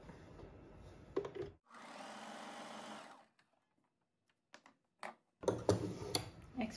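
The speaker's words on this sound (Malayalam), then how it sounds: "ഇതിൻ്റെ മുകളിലൂടെ നമുക്ക് സ്റ്റിച്ച് ചെയ്തെടുക്കാം" Sewing machine stitching fabric for a puff sleeve top, a steady close mechanical whir lasting over a second, with handling clicks and rustles around it and a short pause of near silence.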